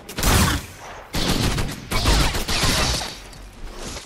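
Video game gunfire in dense, loud bursts, several sustained volleys separated by brief gaps, harsh and close.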